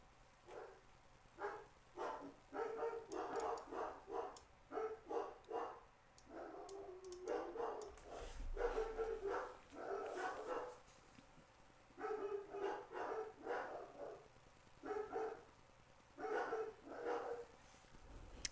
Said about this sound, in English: Damn, they're still barking.